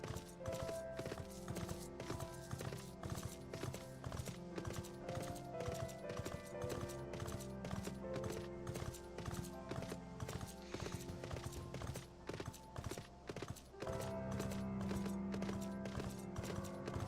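Horse mount hooves gallop in Final Fantasy XIV, a steady rapid clip-clop rhythm running throughout, layered over a busy game music bed with an occasional whinny.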